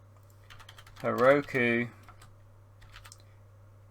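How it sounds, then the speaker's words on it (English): Soft, scattered keystrokes on a computer keyboard while entering code, quiet clicks before and after a brief spoken word. "I'm going to put in what we need to type"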